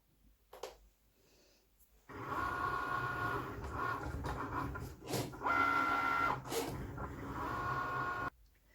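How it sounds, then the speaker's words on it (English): A Cricut cutting machine starts up after a quiet moment and runs with a steady mechanical whir and rhythmic scraping as it cuts heavy cardstock, then stops abruptly. "Put your paper in your Cricut and away you go."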